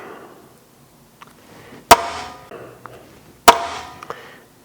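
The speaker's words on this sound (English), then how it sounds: "And if you notice, I'm using a copper hammer." A copper hammer strikes a metal scaffold hand rail tube twice, each blow a sharp, loud metallic hit with a short ringing decay, separated by faint handling noises.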